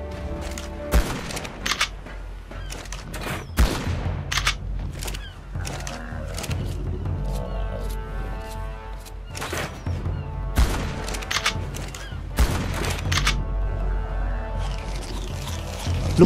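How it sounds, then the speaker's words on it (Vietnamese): Gunfire in the video game ARK, fired to lure a creature while flying out over water: scattered bursts of shots, some in rapid clusters, separated by short gaps against game sounds. "Bay ra xa đất liền rồi cầm súng bắn dụ nó"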